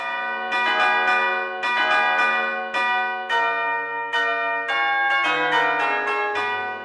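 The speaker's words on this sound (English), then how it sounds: "the final chimes of Big Ben in London" The final chimes of Big Ben in London ring out as a series of deep, resonant bell strikes that overlap and decay into one another, with no voices.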